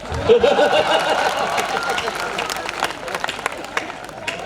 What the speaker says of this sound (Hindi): सारे लोग ताली बजाओ वरना डांस करके दिखाऊंगा।